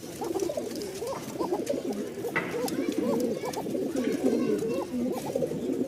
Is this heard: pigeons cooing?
yes